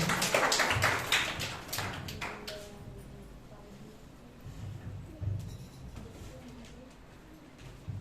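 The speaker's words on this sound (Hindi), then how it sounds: "ताली बजाएंगे परमेश्वर की उपस्थिति में" A church congregation claps hands together during worship, a dense burst of rhythmic applause at the start that fades out, leaving a quieter background with some talk.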